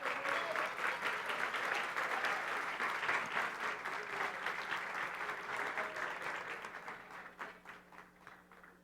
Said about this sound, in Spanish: Por favor, lo recibimos con un fuerte aplauso.